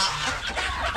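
Chickens cluck and squawk in a dense, close chorus while being fed, a brief noisy burst of overlapping bird calls lasting about a second.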